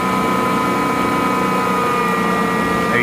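A rebuilt CS Bell No. 20 hammer mill with new bearings and a VFD drive runs up in speed, giving a loud, steady mechanical hum and whine that climbs slightly near the end.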